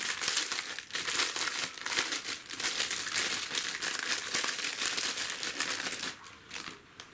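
Stiff plastic packaging around a pack of RC car decals crinkles and crunches steadily as it is cut and pulled open, close and fairly loud, easing off near the end.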